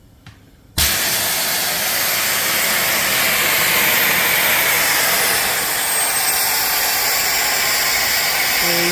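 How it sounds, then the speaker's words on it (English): The pop-off safety valve on an antique steam boiler and engine combination bursts open at about 92 pounds after a quiet moment. It releases a loud, close, continuous roaring hiss of venting steam that holds steady to the end. "So this pop-off valve is going off about 92 pounds, which is perfect."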